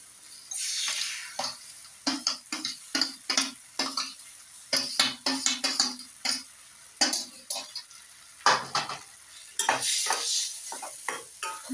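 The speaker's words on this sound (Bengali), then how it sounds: "বেগুনটা দিয়ে আমি এটাকে এভাবে ভালোভাবে একটু মিশিয়ে নেব।" Boiled brinjal being stirred into softened tomatoes frying in oil in a pan for brinjal bharta, with rhythmic wet scraping strokes of a spatula over a soft sizzle, close and fairly loud, no voices.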